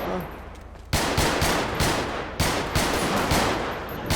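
Automatic gunfire spraying in the video game GTA 5, with sustained rapid bursts of shots that start abruptly after a quiet moment and keep going with brief breaks, loud and dense.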